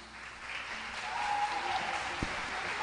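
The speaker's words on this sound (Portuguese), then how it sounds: "Aplauda Jesus" A church congregation at a Catholic parish applauding, steady moderate clapping heard from a distance in a reverberant hall, holding even without any talk over it.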